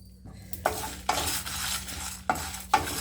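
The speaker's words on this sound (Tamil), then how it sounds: "தனியா, சீரகம், வெந்தயம், வரமிளகா இது எல்லாத்தையும் கொட்டி வறுத்துடலாம்." Coriander seeds, cumin, fenugreek and dried red chilies dry-roast in a pan for tamarind rice, stirred in repeated scraping sweeps with a dry rattling sizzle, fairly close and loud, with no voices.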